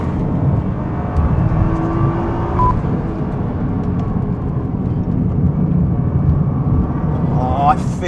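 A Nissan GT-R with four-wheel drive is driven hard on a time trial, its engine droning and rising in pitch as it accelerates, loud and close from inside the cabin, with someone talking over it.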